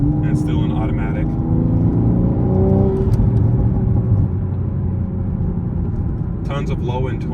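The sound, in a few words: Toyota Supra A90 B58 engine accelerating in sport mode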